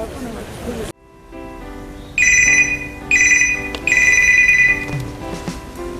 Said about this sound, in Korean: 지금 팀장에게서 전화가 왔습니다